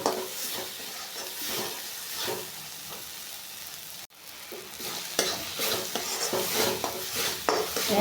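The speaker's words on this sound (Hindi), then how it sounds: "देखिए पूरा मसाला भून के तैयार हो गया है।" Masala for a Jharkhand-style egg curry sizzling and frying in a pan while it's stirred steadily, with the spoon scraping and clinking against the metal, continuous and close.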